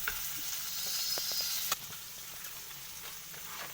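Chilli chicken fries in a pan over medium heat, giving a steady, close sizzle with a sharp clink partway through and soft crackles after. No one talks.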